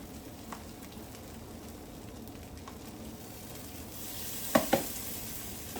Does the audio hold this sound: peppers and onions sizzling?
yes